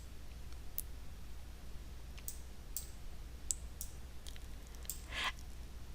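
A computer mouse clicks while someone works in graphics software adjusting a color slider, about ten sharp, faint isolated clicks spread irregularly over a quiet, hissy background.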